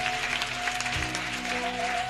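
Congregation at a church sermon clapping and cheering in acclamation of the Lord, a dense continuous wash of applause throughout, with a faint sustained tone underneath.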